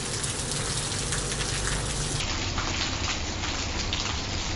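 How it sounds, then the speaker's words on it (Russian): Steady cold rain falls in a dense, continuous hiss with patters of drops on surfaces, close and fairly loud throughout, with no voices. "А дождь оказался такой мокрый и холодный."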